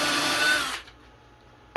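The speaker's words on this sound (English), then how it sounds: "we're going to go ahead and drill all the way through the top of the table" A power drill bores through a wooden CNC wasteboard table top, whining loudly and steadily before stopping abruptly, followed by quiet and a brief sharp burst at the end.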